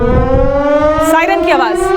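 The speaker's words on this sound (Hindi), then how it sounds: "सायरन की आवाज़।" A civil defense siren wails loud and steady with a rising, sustained tone during India–Pakistan hostilities, with a voice speaking over it.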